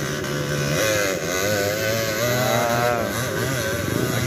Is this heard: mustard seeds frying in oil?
no